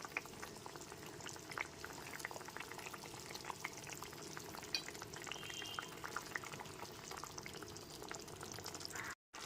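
Thin fish curry broth with potato simmering in a pot over a medium gas flame, a steady, soft bubbling and crackling texture running throughout, fairly quiet and continuous, with no talking.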